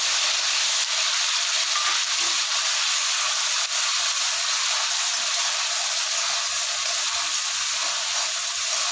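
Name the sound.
ginger-garlic paste and green chilli sizzling in pan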